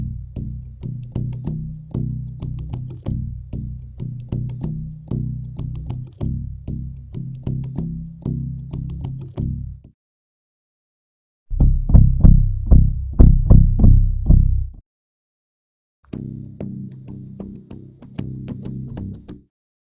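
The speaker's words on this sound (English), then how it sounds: "where we took a balloon and used the ukulele as a resonator" A balloon played against a ukulele body used as a resonator gives quick rhythmic plucked and rubbed pulses in a steady tempo, close and moderately loud, with pauses between phrases and a louder, boomier middle stretch.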